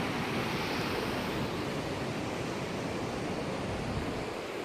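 Steady ocean surf rolls far below a suspension bridge spanning a canyon on Vancouver Island's Juan de Fuca coast, a continuous broadband wash of waves with wind noise and no speech.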